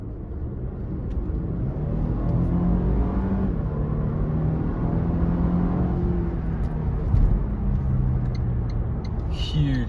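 A Toyota Land Cruiser 300 ZX with a 3.5-litre twin-turbo petrol V6 accelerates from about 40 km/h in Sport Plus mode, giving a steady low cabin rumble with rising engine tones beneath speech.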